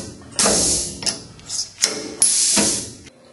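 Power drawbar on a Tormach PCNC 1100 mill actuates in short mechanical bursts, several clunks and pneumatic hisses with ratcheting clicks, close and fairly loud, no talk.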